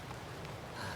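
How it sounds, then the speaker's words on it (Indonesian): Rain falling on a forested hiking trail on Mount Salak in West Java, a steady diffuse hiss of drops, soft and constant with nothing else standing out. "Ditambah lagi cuacanya hujan"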